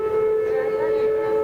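A civil defense siren at the Oklahoma City National Memorial holds a steady wailing tone, loud and sustained, with faint background murmur.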